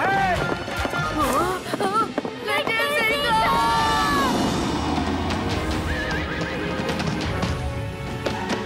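Hooves pound in a fast, busy gallop as a cartoon horse charges and neighs repeatedly, loud and near, while shouting voices and crowd noise play on top.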